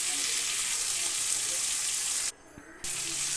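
Green chillies frying in a pan while a crab dish is cooked, giving a steady bright sizzle that holds throughout and drops out for a moment before resuming.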